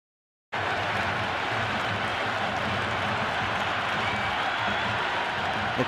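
A cricket video game's stadium crowd roars and applauds in a continuous, dense wash of noise that starts abruptly and holds steady throughout.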